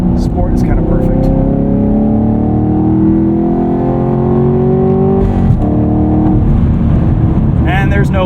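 A Camaro SS 1LE exhaust in sport mode rumbles loud and close, revving upward in pitch for several seconds before a sharp drop, then settling into a steady drone with a voice talking over it.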